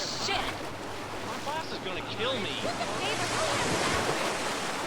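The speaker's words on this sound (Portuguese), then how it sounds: "som de ondas na praia" Ocean surf washing onshore with wind, a broad steady roar with faint chirpy tones scattered through it; beach ambience from a modded GTA San Andreas game.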